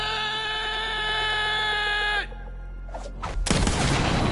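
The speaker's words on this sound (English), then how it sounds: "You just shoot the igniter. That'll do it for sure!" Gunfire in a PS4 video game, aimed at an igniter: a steady tonal hum gives way to a few sharp shots, then a loud, sustained blast at close range.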